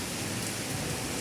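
Heavy rain pouring down in a steady, dense roar, close and unbroken for the full short stretch with no voices.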